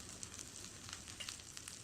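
Kanda lasun masala and red chilli powder sizzling as they are sautéed in a pan for a Khandeshi patodi curry. The hiss is faint and steady, with small crackling pops throughout and no talking.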